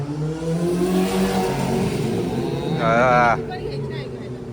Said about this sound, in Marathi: अरे इथे एक जीप आहे एकदम कन्वर्ट केलेली आणि ही टुरिस्ट साठी खूप फेमस आहे